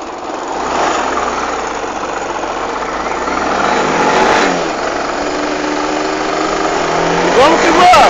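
A street motorcycle engine idles steadily at night, a constant low rumble running throughout with a slight rise midway and a brief mechanical rattle near the end.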